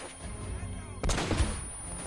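Gunfire in the video game Uncharted: Drake's Fortune, a sudden loud burst of shots about halfway through, with softer game noise and a voice in the background around it.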